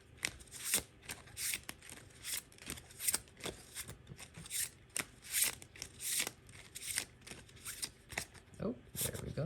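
Tarot cards are shuffled in repeated quick riffling bursts, close and crisp, each flurry of papery flutter separated by brief pauses.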